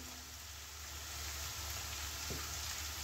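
Semai with peas, green chilli, salt, turmeric and chilli powder fries in a pan, giving a steady, even sizzle throughout with faint scraping toward the end.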